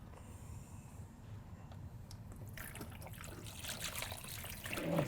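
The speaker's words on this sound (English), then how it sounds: "And we'll add some water." Water is poured into a toy beach play tray, a soft trickle and splash that swells toward the end. It is close and fairly quiet.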